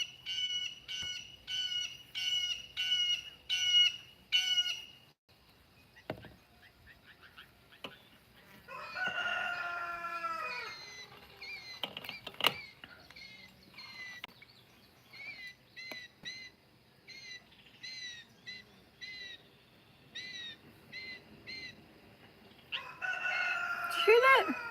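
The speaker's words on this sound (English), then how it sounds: "You hear my rooster?" A rooster crows several times in repeated bursts, fairly close, with other bird calls and squawks scattered between the crows.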